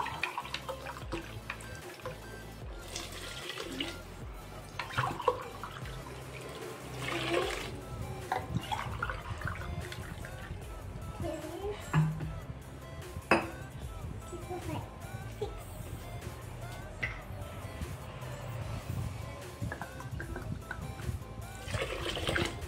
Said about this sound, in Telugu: ఇప్పుడు ఈ గ్లాస్తో 6 glasses వాటర్ పోసుకుందాం.